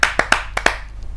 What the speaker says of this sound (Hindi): जोरदार तालियों से आमंत्रित कीजिए अशोक शर्मा जी।